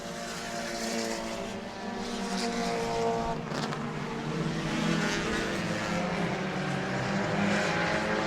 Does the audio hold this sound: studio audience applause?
no